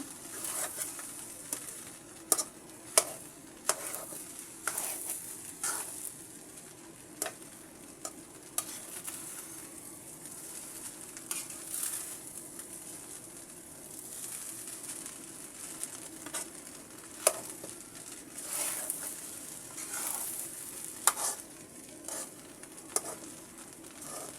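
Fried rice being stirred and tossed in a pan, with repeated sharp scraping and clinking strokes over a steady sizzle, while pigeons coo faintly in the background.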